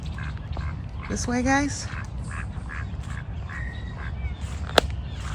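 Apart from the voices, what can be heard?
ducks quacking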